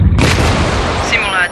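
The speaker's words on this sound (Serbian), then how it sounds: "Eksplodirat će!" A cartoon explosion goes off inside a hologram game simulation: a loud, close boom that starts abruptly and rumbles for over a second before cutting off.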